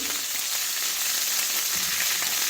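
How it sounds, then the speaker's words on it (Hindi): A ginger-garlic paste fries in a pan with a steady, soft sizzle that stays even and unbroken throughout. "मैं पहले इसको फ्राई कर रही हूँ।"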